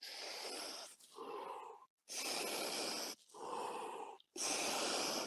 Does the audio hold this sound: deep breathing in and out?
yes